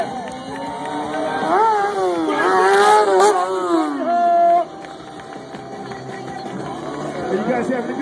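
A stunt show motorcycle's engine revs and whines in rising and falling sweeps, loud and close, with crowd chatter around it, then cuts out partway through while the noise continues.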